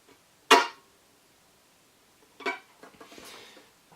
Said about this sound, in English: So chop is a rhythmic technique we can use on our violins.